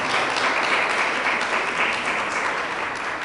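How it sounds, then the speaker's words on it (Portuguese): Church congregation applauding during a worship service, a dense, steady wash of many hands clapping that fills the whole moment without letting up. "Você pode aplaudir o Senhor em nome de Jesus?"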